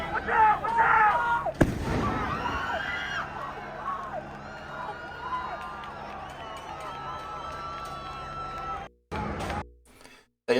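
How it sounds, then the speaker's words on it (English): A firework bursts with a sharp loud bang amid a student protest, followed by crowd noise, shouting and running, with voices talking over the scene. "That guy throws a firework right here."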